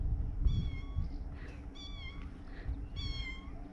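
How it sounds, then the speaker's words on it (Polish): Several small, thin stray cats meow in three clear bursts, high and plaintive, close by over a steady low outdoor rumble, with no talking. "kotów wszędzie mrowie. Wszystkie alarmują, miauczą."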